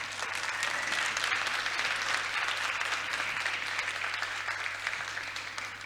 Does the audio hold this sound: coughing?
no